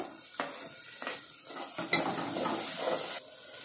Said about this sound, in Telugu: కొంచెం వేగిందండి ఎర్రగడ్డ. తర్వాత టమాటా వేస్తున్నానండి.